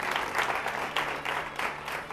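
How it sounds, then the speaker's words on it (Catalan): An audience at a televised Catalan word-game show gives a round of applause, a steady, moderately loud patter of many hands with slight swells, no voices on top. "Doncs aplaudiment per elles també"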